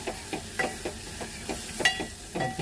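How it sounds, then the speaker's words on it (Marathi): Coriander stirred into a dry Bombay duck curry masala in a pan, giving a steady run of soft scraping stir strokes over a faint sizzle, close and moderately quiet with no talk. "कोथिंबीर घालून मिक्स करूया छान।"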